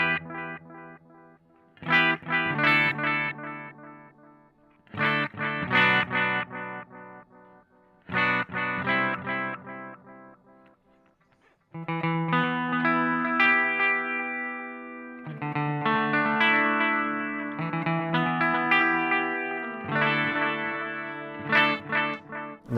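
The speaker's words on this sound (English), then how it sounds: "those echoes drop in treble response very quickly" An electric guitar plays through a Strymon Timeline in tape echo mode on an old tape setting, chords and notes ringing out with repeats that trail away and lose treble, loud and clear with no talking.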